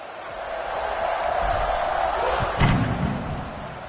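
A football stadium crowd roars in a steady, broad swell from a distance, with one sharp thump midway through as the noise stays loud.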